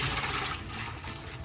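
Cooked spaghetti is poured out to drain, giving a brief, rushing splash of water that gurgles steadily for a moment at close range.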